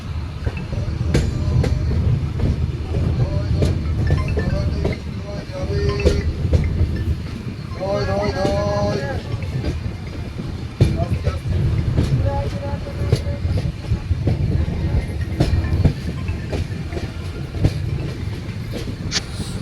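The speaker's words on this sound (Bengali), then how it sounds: "ট্রেনের আগাটি গুহার মধ্যে ঢুকে পড়েছে, এবার আমরাও ঢুকবো আস্তে আস্তে।" Train rolling toward and into a tunnel through hills, a steady rumble with rhythmic clickety-clack and brief metallic squeals, heard close and continuous, as if from aboard the moving train.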